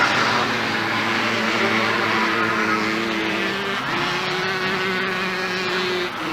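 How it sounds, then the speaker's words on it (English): Green Kawasaki racing motorcycles roar at a race meeting, a steady loud engine drone with a slight shift in pitch partway through and no clear pass-by. "Brian Patterson from New Zealand is the other green Kawasaki rider in this particular event."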